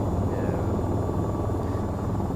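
Helicopter flying in VTOL VR, a steady loud rotor and engine drone with dense low thumping that holds evenly throughout, no talk.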